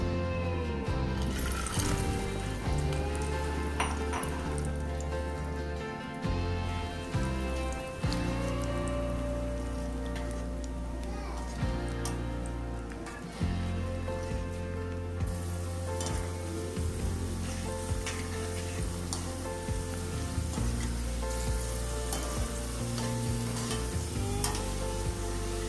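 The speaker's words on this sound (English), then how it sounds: "we'll be frying the raisins" Raisins fry in hot oil for Afghani mutton pulao, giving a steady dense sizzle and crackle like light rain that runs the whole time, close and fairly soft, with no talking.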